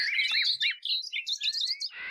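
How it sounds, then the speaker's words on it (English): Birds chirp in the Minecraft game, a quick run of bright, clear tweets and whistled trills heard alone with nothing else in the way. "The birds are louder than you."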